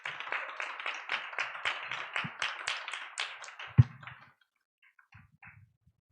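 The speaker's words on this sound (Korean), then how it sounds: "이 자리에 모실 때 우리 큰 박수로 환영할까요?" Clapping from a youth congregation at a Korean church Sunday service, welcoming a preacher: a modest crowd of hands beating in a steady, fairly even rhythm for about four seconds, then stopping, followed by a few faint taps and shuffles.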